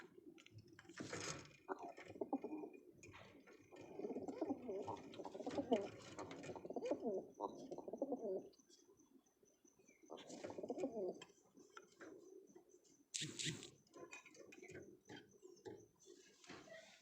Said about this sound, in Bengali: যে একটা মাদি কবুতর